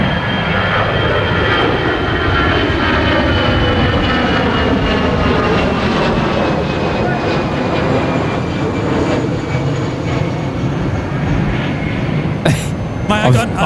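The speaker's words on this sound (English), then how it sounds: "Right, I got an EasyJet coming overhead here" An EasyJet airliner passes overhead near an airport, a loud, sustained jet roar with a sweeping rising and falling whine that fills the whole stretch, ending with a few faint clicks.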